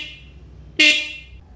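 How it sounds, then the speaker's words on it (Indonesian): A single short horn beep from a Kawasaki Ninja R/RR motorcycle, sharp and fairly close, sounding once for about half a second before fading out. "Tombol klakson, coba kita pencet."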